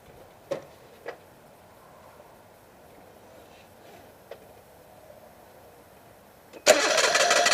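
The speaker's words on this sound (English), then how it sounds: "now I'm going to spin the engine over and see what happens." A few faint clicks and taps in near silence, then a Metro car engine with its timing belt being worked on abruptly cranks over, loud and steady to the end.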